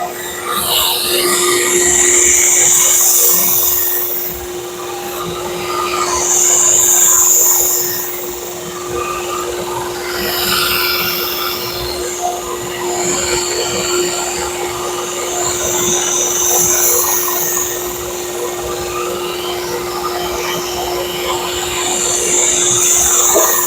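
Kurogane Bunka knife, a Hatsukokuro blade, being reground on a grinder, a steady loud abrasive whine with swelling and easing passes, no talking.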